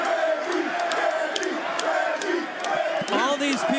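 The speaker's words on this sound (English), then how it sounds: "They're cheering for Reggie, and they should" A large crowd at a live bare-knuckle fighting event roars and cheers continuously, with loud shouts and whoops rising out of the steady din throughout.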